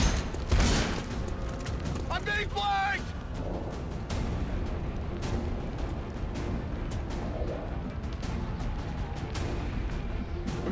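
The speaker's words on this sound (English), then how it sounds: "Yeah, man, that's an Overwatch shot." An Overwatch shot in XCOM 2 cracks out as one loud burst near the start, followed by mechanical whirs and scattered lighter impacts, with someone talking over the game audio.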